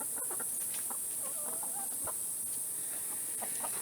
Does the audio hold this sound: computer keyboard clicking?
no